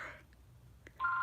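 A telephone starts ringing with a steady electronic tone that sets in sharply near the end, preceded by a brief fainter chirp, close by and alone.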